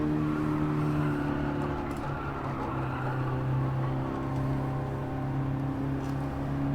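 A 2008 Fiat 500 1.2 engine in a driving game, a steady droning hum held at fairly constant revs with slight swells, close and continuous with no talk over it.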